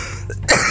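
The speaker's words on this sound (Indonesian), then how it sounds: "sampai batuk saya" A single sharp cough bursts out close by after a quiet, hissy stretch, loud and brief, during work reballing the CPU of an LG G4 phone.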